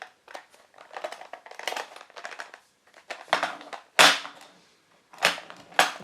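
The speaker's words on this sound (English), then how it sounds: "pulling it apart from either ends." A Brabantia plastic cutlery box is pulled apart from both ends, producing close, crisp plastic clicks and rattles, with a few loud sharp snaps near the end and no voices.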